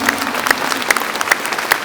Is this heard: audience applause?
yes